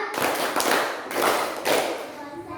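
Rhythmic group hand clapping in a classroom chant, several crisp claps in a patterned sequence, close and loud, with faint children's voices in the background.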